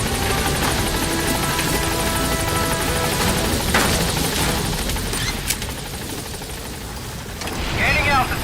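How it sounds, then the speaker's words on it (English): Constant thudding support helicopter rotor noise in Metal Gear Solid V, with sharp mechanical clanks and a brief burst of chatter near the end. "Support helicopter has arrived."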